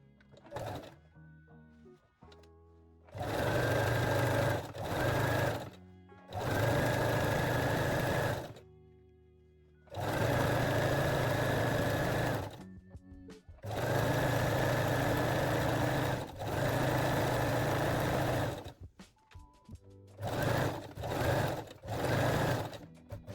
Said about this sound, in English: set your machine to zigzag or 3-step zigzag stitch and finish the waistline